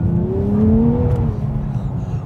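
Engine of a 2023 Nissan Z with manual gearbox pulling hard on a rough road, a steady rising drone that climbs in pitch then levels off, loud and close throughout with no talk.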